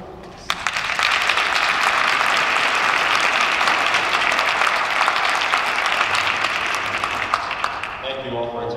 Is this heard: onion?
no